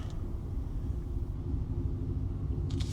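A hot rod car engine idles steadily with a low, constant rumble, its tone even and close.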